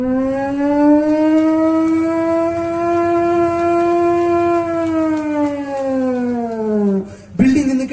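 A mimicry artist at a state school arts festival imitates a factory siren with his voice: one long, loud wailing tone that swells, holds steady, then sinks away before breaking off abruptly.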